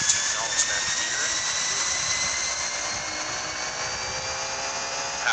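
Simulated Airbus A320 jet engines spool up toward takeoff power in the X-Plane 11 game, a steady loud broadband roar with rising whine tones that holds continuously throughout.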